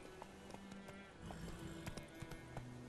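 Rhythmic clip-clop of horse hooves at a steady gait in the video game The Witcher 3, fairly quiet, with faint background music and a distant whinny.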